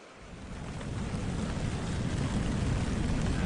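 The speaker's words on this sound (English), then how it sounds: "as you can hear, the rain is absolutely tipping it down yet again" Heavy rain pours down steadily by a riverside, a dense broadband hiss that grows slightly louder and stays constant, with no voices.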